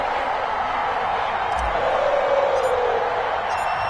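A stadium crowd cheering in an EA Sports NFL video game before a Baltimore Ravens versus Cincinnati Bengals match, a steady roar that swells slightly midway, heard under a commentator's voice.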